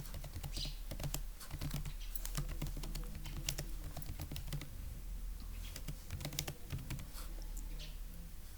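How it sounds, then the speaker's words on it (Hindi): Computer keyboard typing at a steady, somewhat slow pace, a dense run of close clicking keystrokes with brief pauses, alone without talk. "मैं सोच के लिख रही हूँ इसलिए टाइपिंग थोड़ी सी स्लो हो रही है।"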